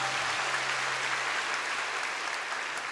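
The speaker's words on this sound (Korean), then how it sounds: "축하하며 박수 한번 치겠습니다." A church congregation claps together at a Sunday worship service, a steady, dense wash of applause filling the room for about three seconds with no talking over it.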